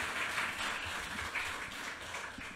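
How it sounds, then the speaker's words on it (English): A seated audience at a literary reading event gives a steady round of applause for four writers after their readings, with dense, even clapping filling the room from start to finish and no talk over it. "Please, let's give them another round of applause to thank them for their words and their readings."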